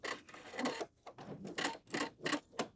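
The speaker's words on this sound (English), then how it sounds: "we're going to sew right in the zipper tape, right up this little waistband part" Sewing machine stitching zipper tape onto the waistband of a homemade midi skirt, in short bursts of fast whirring with brief pauses between them, close and fairly quiet.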